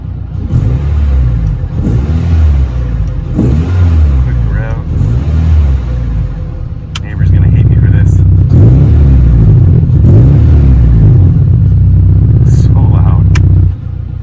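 A car with a loud performance exhaust idles with a deep burbling rumble, heard from about 12 feet off the tailpipe, then the note swells louder and steadier as the cutout opens, revving faintly under the steady drone.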